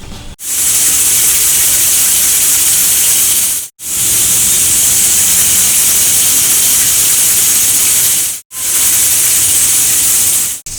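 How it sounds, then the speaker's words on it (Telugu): A pressure cooker whistle releases a loud, steady hiss of steam while cooking pongal, gushing out in three long blasts, each cut by a brief silence. "విజిల్ వచ్చేస్తుందండి"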